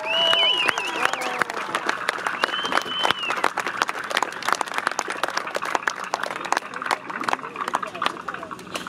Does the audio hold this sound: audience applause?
yes